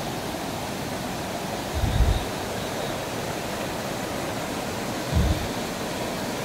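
A small waterfall about fifteen feet high, Thiruppuli falls in the Kolli Hills, gives a steady broadband rush of falling water, constant and fairly close, with two brief low thumps and no talking.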